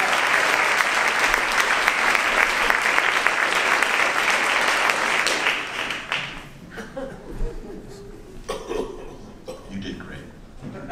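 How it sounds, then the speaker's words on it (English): Loud, dense audience applause for a volunteer at a mentalist's stage show, sustained for about five seconds before thinning into scattered claps, light laughter and someone talking. "Give her a tremendous round of your applause"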